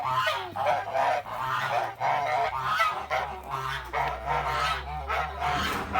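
A flock of Kholmogory geese honking continuously and loudly nearby, overlapping calls with a low steady rumble underneath.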